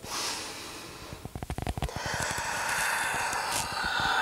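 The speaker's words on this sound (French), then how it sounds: "On essaie de respirer sur les mêmes temps que tout à l'heure." Breathing in and out during a whole-body stretching exercise: a close, rapid run of short snorting exhales through the nose, then a longer airy breath.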